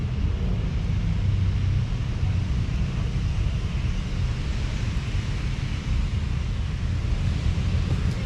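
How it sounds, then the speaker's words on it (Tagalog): Strong wind buffets the microphone in a steady, loud rush with no letup while a child's kite flies outdoors. "Ang lakas hangin."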